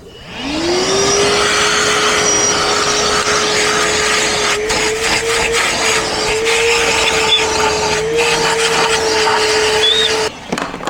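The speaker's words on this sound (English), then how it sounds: "clean this all up first with a vacuum, get all the dirt sucked out of there" A vacuum cleaner starts up and whines steadily at close range, sucking dirt out of the engine intake area of a 2015 Hyundai Santa Fe, its pitch wavering slightly as the nozzle moves around, then briefly cuts near the end.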